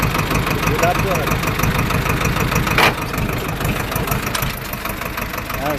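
A tractor engine runs steadily in a farm field during a driving lesson, a loud continuous mid-pitched idle rumble with a voice speaking over it.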